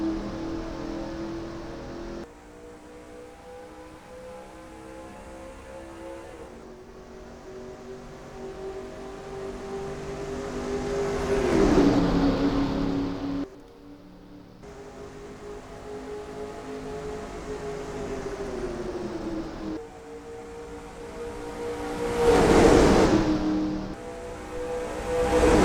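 Stock cars roar around the Daytona 2.5-mile oval in NASCAR Racing 2003, a pack of engines droning loudly with pitch sweeps as cars pass, brief dips between passes and rising surges near the middle and end.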